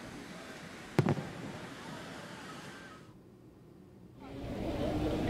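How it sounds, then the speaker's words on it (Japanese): Handheld tube fireworks (tezutsu hanabi) at a summer fireworks festival in Saga, Japan, a sharp bang followed by a crackling, hissing roar of spraying sparks, distant and fairly faint, dropping away briefly before rising again. "メンバーは激しい炎を放つ手筒花火を火の粉をかぶりながら抱え、"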